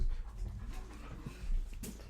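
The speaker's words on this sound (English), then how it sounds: "we've got some rambunctious puppies running around, and they just want to play" Rambunctious puppies pant in quick, rhythmic breaths close by, with a few soft whimpers and faint movement noise in between and no one speaking.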